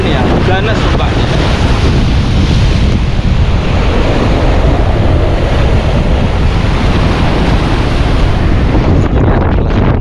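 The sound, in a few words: waves of the Red Sea at Jeddah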